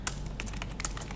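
Quick, light keystrokes on a computer keyboard clatter up close in an irregular burst of taps over a steady low background hum.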